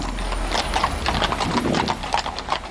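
Hooves of a heavy Cleveland mounted police horse clip-clop in a steady, even rhythm on pavement, close and clear over a constant low rumble of street background.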